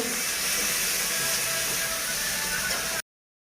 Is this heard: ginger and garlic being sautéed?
yes